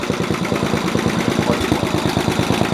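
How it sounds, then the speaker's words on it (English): Snapper Comet 3081 riding mower engine running after sitting unused for about 13 years, a loud, close, rapid chugging putter with an even, pulsing rhythm throughout. "That actually ran quite well. That was the first time that machine has been running in about 13 years,"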